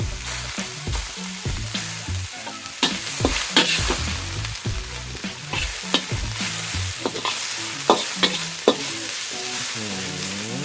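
Sliced ginger sizzles and crackles in a large hot wok while a spatula scrapes and stirs it in steady repeated strokes, close and continuous, with no talking.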